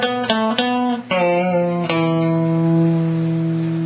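Electric guitar playing a riff in a lower octave: a few quick picked notes, one with a slight bend, then a sustained note that rings on, loud and alone.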